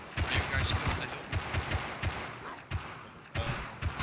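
Rapid bursts of gunfire from the video game Rust crackle in repeated volleys, loud and close, with short pauses between strings of shots and faint talk underneath.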